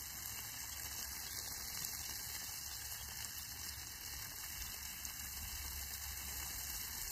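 Water running steadily from household plumbing during a water heater flush, a constant hissing rush with no breaks, moderately loud and close.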